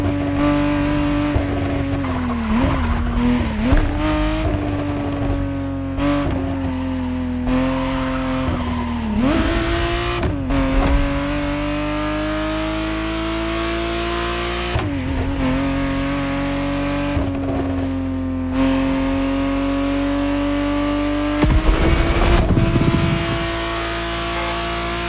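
A 1991 re-engineered Ferrari Testarossa drives in The Crew Motorfest, its engine a loud, steady drone that rises and falls through gear shifts, with occasional tire squeals.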